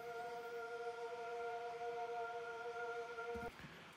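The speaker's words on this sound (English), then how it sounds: "this vocoder pad that sounds like this" A vocoder pad from a sample pack in Logic Pro X holds one steady, buzzy synthetic chord for about three and a half seconds, then cuts off abruptly.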